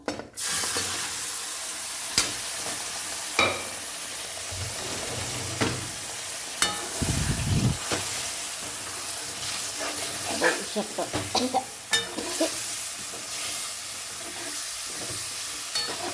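Steady hiss of spices frying in hot oil for a chicken dish, with occasional stirring clinks and brief bursts of louder sizzle, close up.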